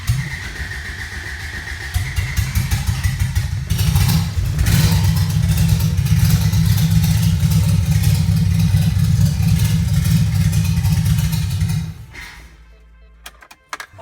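A 1980 Toyota pickup's 20R engine, primed with gas poured into the carburetor, catches on its first start and runs loud and close, revving steadily for about ten seconds before abruptly cutting out.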